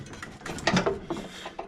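A ratchet turns a long wing nut on a Craftsman 30-inch riding mower, giving a quick series of close, dry clicking and clacking strokes with short pauses, quiet overall.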